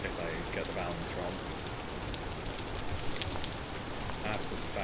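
Steady rain falls in the video game Vintage Story, a dense, even hiss of drops on surfaces that holds without pause for the whole stretch.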